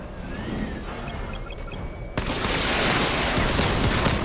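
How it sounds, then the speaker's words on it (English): Missile barrage fired in Batman: Arkham Knight, a dense roar of rapid blasts and crackling explosions that surges suddenly louder halfway through and holds steady. "Missile barrage level 2 ready"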